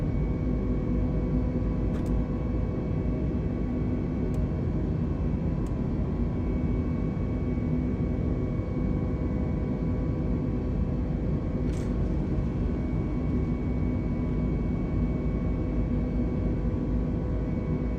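Throttled-up aircraft engine in Microsoft Flight Simulator 2020, a steady droning hum with broadband rumble, constant and unchanging throughout, with a few faint clicks.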